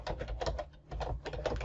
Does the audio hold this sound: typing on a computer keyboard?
yes